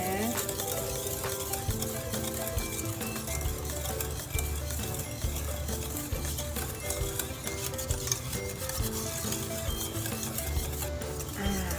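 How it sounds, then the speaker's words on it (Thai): Continuous scraping and light clinking of a utensil stirring egg-yolk and sugar salad dressing in a pot over heat, steady and close throughout with a soft bubbling hiss underneath. "คนไปในทิศทางเดียวกันนะคะ อย่าหยุดมือนะ"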